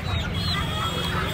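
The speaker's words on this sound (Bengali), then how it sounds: "এখানে দেখতে পাচ্ছেন কোয়েল মুরগি আছে" Quail for sale at a busy poultry and pet market in Uluberia, with soft chirping calls over a dense crowd murmur and distant voices.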